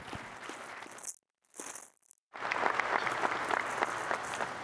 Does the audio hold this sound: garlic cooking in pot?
no